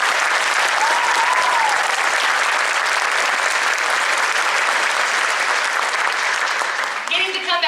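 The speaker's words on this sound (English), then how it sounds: "Please give them a round of applause." A concert audience gives sustained, dense applause for the clarinet and flute soloists of a junior high honor band, steady and loud throughout, with a brief voice and a flute-like tone surfacing near the end.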